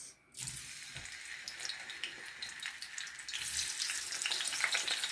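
Potatoes frying in hot oil for a fried potato and canned stewed meat dish: a steady broadband crackle and sizzle that grows louder and denser toward the end, with a few soft clunks early on and no talking.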